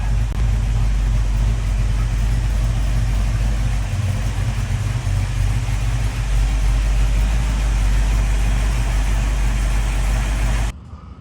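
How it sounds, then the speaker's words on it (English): A 1966 Ford Mustang engine idling, a steady, heavy low rumble close by that runs unbroken and then cuts off abruptly at the end, with no voices. "So I just got the car running so I can drive it out and swap it"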